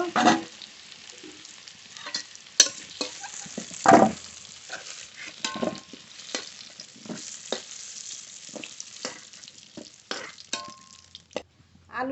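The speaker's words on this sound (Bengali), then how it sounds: "আলু খুব ভালো করে ভেজে নিয়েছি" Potatoes frying in mustard oil in a pan, a steady close sizzle with repeated scraping and stirring clatter from a spatula.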